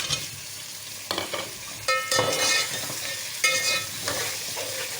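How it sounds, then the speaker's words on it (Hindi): Potatoes frying in a pot of oil while cooking tikka biryani, a steady sizzle with clattering bursts of stirring at intervals, fairly close and with no talk. "देखिए मैंने आलू डाल दिए, आलू इसमें हल्की फुल्की फ्राई हो गई"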